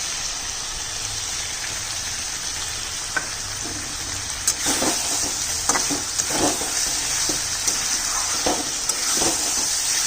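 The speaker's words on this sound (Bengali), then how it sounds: "আর 2 মিনিট কষাবো।" Mutton curry sautéing in a pan with red and Kashmiri chilli powder and lemon juice, giving a steady, close sizzle throughout with scattered spatters and stirring scrapes, no talking.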